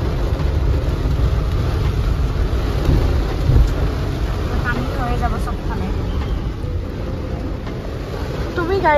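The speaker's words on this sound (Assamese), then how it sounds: "বহুত বেয়াকে ধুমুহা আহিছে এতিয়া ন" Heavy rain and rumbling thunder of a strong storm fill the scene continuously, loud and close, with a voice talking over it.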